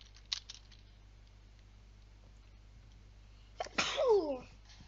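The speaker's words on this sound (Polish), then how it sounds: "Ale mi kichanie wzięło." Two sneezes during a live gaming stream: a short, sharp one near the start, then a louder, longer burst near the end, with quiet room hum in between.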